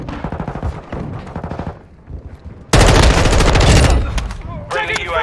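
Call of Duty Modern Warfare 2 gameplay erupts into sustained, loud automatic gunfire after a stretch of rapid rattling shots, with game voices mixed in over the firing.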